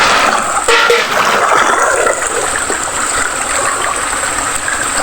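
Steady rushing flow of a mountain river, a dense close hiss of water over rocks that stays loud and continuous throughout, with no talking.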